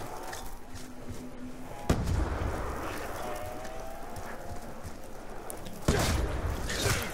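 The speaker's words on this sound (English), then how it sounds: "Think we're gonna grenade them." Grenade blasts in Black Ops 2 Zombies on the Farm map: two sharp booming bursts, one near two seconds and another near six, each followed by a rumbling, crackling tail over a constant noisy game background.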